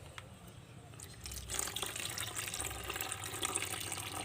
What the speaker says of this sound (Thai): เดี๋ยวเทน้ำออกก่อน